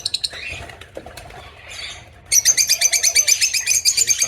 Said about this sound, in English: Lovebirds are such fun little birds.